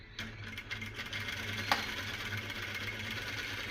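A sewing machine stitches lining into an embellished work blouse, making a steady close mechanical whir with a fine ticking rhythm that runs evenly throughout, with no talking.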